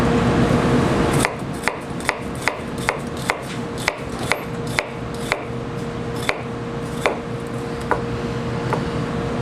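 A Masamoto 210 mm gyuto knife chops through a red onion on a board in a steady rhythm of sharp, close taps, about a dozen in all.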